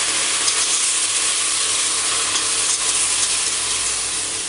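White wine stirred into toasting risotto rice with artichokes, a steady loud sizzle and hiss with stirring scrapes running continuously throughout, close up and with no voices.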